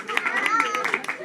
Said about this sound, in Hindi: तालियां आप बजाते रहिए इन बच्चों को हौसला अफजाई के लिए।